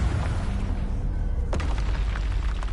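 Confringo fire spell in the Hogwarts Legacy video game, a rumbling low burst followed by a sharp blast at about one and a half seconds, with crackling debris trailing off afterward.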